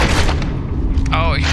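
An explosion in the first-person shooter F.E.A.R. 2 sounds as a heavy boom with crackling bursts, like gunfire, over busy game noise.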